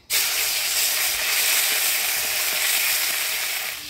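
Cardamom, dried chilli and bay leaf hit hot oil in a pan and sizzle at once, a loud steady close frying hiss that holds for several seconds with faint stirring taps.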